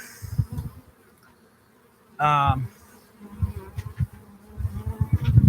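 Honey bees buzz during a hive installation, one short loud buzz passing close for about half a second amid quieter thumps and handling noises.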